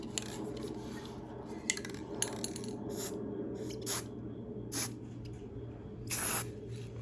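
Ceramic coating paint is sprayed onto a gun in tiger-stripe custom work, with short hissing spray bursts repeating over a steady low hum, close and fairly clear.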